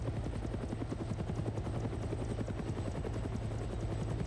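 A helicopter in the military video game Arma 3 drones steadily with a dense, continuous rotor thump and engine roar, loud and close throughout with no talking.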